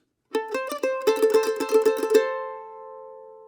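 A plucked mandolin phrase from a tune: a few separate notes, then a quick run of repeated tremolo-like plucks, ringing out and fading at the end. No voices.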